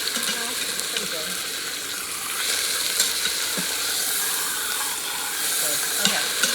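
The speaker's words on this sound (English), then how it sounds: "So you've seared the meat on both sides." Meat searing in olive oil in a heavy pan, a loud continuous crackling sizzle with bursts of hiss and faint clinks, close up and steady throughout.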